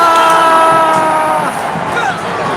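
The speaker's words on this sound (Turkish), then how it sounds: "Yine de alkışlar Kasango ya" A stadium crowd at a football match cheers and applauds a player after a near goal late in the game, a loud sustained roar that slowly eases off.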